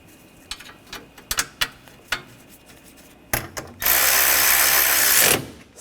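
A hand ratchet clicks in short bursts of sharp ticks as bolts are driven into a radiator bracket on a 2013-2022 Buick Encore 1.4L, followed by a loud sustained whirring rush near the end.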